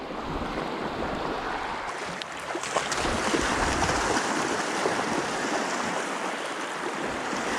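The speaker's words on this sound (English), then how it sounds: "Wind's kicking up the waves" Wind-driven waves washing against the shore of Fish Lake, a continuous rushing splash with gusty wind noise, fairly loud and steady throughout, with no talk.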